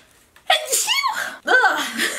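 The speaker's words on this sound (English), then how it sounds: "I need to sneeze" A person sneezes loudly close by, a sharp burst following a brief intake of breath, then a second noisy exhale.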